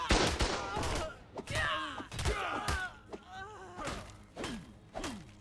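Enemy gunfire in the video game Ark during a train robbery fight, rapid bursts of shots and thuds with swishing melee swings and shield blocks, busy and layered, no speech.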